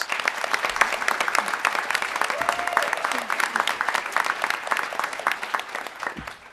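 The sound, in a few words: audience applause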